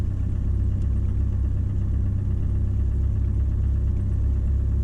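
Car engine idling steadily just after starting, held level by a FuelTech idle actuator, a loud continuous low rumble close by with no voices.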